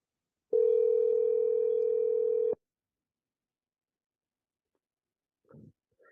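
A steady telephone dial tone plays loud and alone for about two seconds while a call is placed back, then cuts off, followed by near silence and a faint brief voice at the end.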